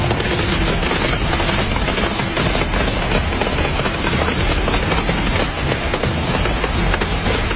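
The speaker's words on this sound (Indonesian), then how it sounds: "Baku tembak sengit terjadi di sekitar perimeter pos." Dense, continuous bursts of gunfire in an intense exchange around an outpost perimeter crackle and pop without pause, overlapping shots forming a loud, chaotic barrage throughout.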